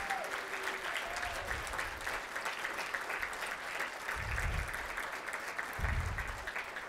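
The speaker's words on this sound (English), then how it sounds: "give them a big round of applause" Audience applause for session facilitators at a Rotary conference keynote, a steady wash of clapping from a large crowd that swells into louder bursts near the end.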